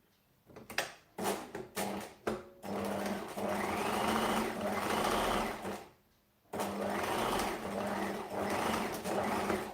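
A sewing machine stitches fabric in short bursts at first, then settles into two long runs of rapid, steady stitching, loud and close, with a brief stop between them and no talking.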